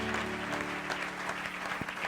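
A church congregation claps and cheers together at a worship service, a steady, moderately distant patter of many hands with a few voices mixed in.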